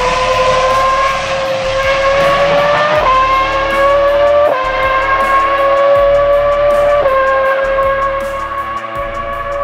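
A Formula 1 V10 engine screams at high revs, a loud and continuous howl whose pitch climbs and then drops sharply at several gear changes, heard alone and close.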